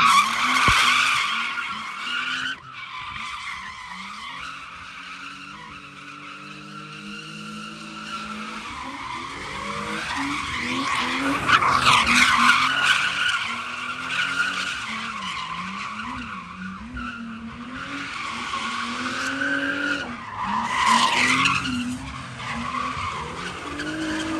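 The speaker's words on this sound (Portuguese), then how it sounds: "quem tava andando com o carro aqui é o Nuno" A car drifts around a drift track in Portugal, tires screeching in long continuous squeals as the engine revs rise and fall, loud and sustained for the whole stretch.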